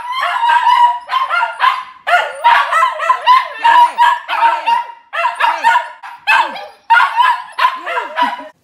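Several dogs bark and howl together in loud, close, overlapping bursts, with sharp yips, pitch-bending wails and whimpering cries trading back and forth in an uneven rhythm.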